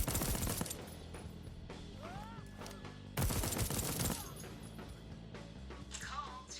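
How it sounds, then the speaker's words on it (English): Gunfire in the video game Deathloop, with several sharp bursts of shots, one loud cluster standing out over faint game sounds and brief talk. "I'm shooting."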